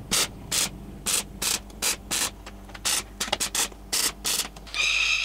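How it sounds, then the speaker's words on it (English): Steel patch panels on a Toyota FJ45 Land Cruiser body are welded in a series of short, sharp crackling bursts with brief gaps between them, close and fairly loud, followed by a longer hiss at the end. "now I'll fully weld these two panels in"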